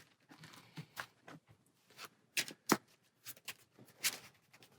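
A deck of Marvel Champions cards gets shuffled by hand, a quiet burst of papery riffles and snaps in irregular bursts, close and alone.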